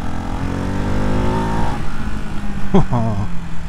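A 2024 Ducati Hypermotard 698 Mono RVE single-cylinder motorcycle engine revs hard and climbs in pitch under acceleration, roaring close by, with a short tonal sweep near the end.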